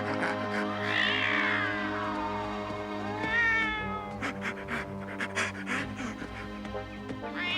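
A cartoon cat gives a drawn-out, wavering meow with panting and yowling, set against a sustained musical score, loud and close with no speech.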